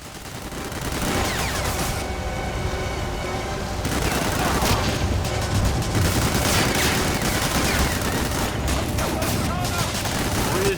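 Gunfire in the Medal of Honor video game: a dense, continuous fusillade of rapid machine-gun bursts and scattered shots, loud and close, that keeps up without a break and swells partway through.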